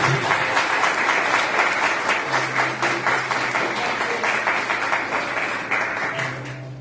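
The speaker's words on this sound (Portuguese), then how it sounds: "Eu queria que neste momento você aplaudisse ao Senhor por essa palavra" A church congregation at a family revival service applauds the Lord: sustained, thick clapping from many people, steady and close, with a faint low hum running beneath and tapering slightly at the end.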